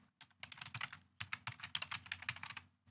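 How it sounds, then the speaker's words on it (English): An email address is typed on a computer keyboard in quick, close bursts of clicking keystrokes. A brief pause breaks the typing partway through, and no one speaks. "you just type their email address in right here"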